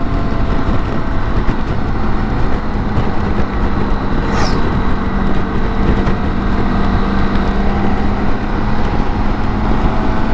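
A BMW K1600 GTL motorcycle engine drones steadily and loudly while riding a curvy road, with heavy wind rush and a faint passing whine midway, no voices.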